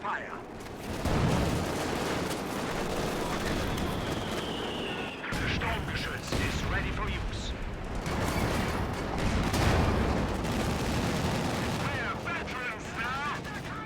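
ZiS gun artillery barrage in the video game Company of Heroes 2, a run of heavy booms and gunfire crashes amid dense battle noise, with a commentator talking over it.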